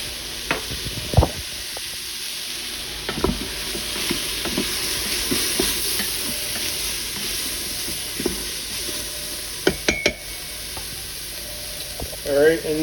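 Sausage and vegetables sauté with garlic powder in an Instant Pot for red beans and rice, a constant close sizzle broken by occasional clicks and scrapes of stirring.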